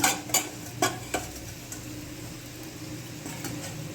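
Masala scraped from a bowl into a pot of keto butter chicken, a few sharp scraping and clinking strokes at the start, then a soft background hiss, close by and without speech.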